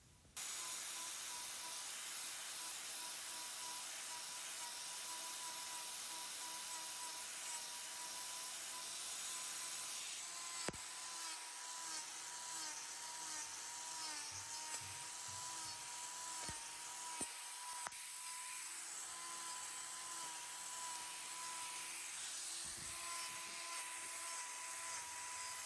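Power tool trimming a cow's hoof packed with gunk, a steady high whirring grind held throughout with faint irregular clicks and knocks, fairly quiet and continuous, no talk.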